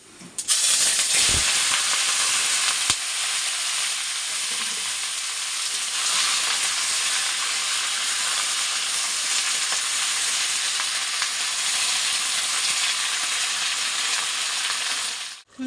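Hot oil sizzling in a wok (kadai) before cooking greens, a loud steady hiss that holds nearly unchanged, with a couple of brief knocks near the start, close and without speech.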